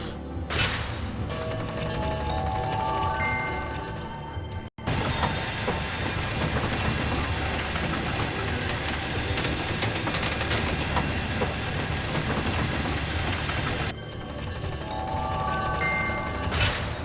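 Elevator ride in Final Fantasy XIII at Taejin's Tower, a steady loud mechanical rumble and hum after a brief chime, with an abrupt cut and another rising chime near the end.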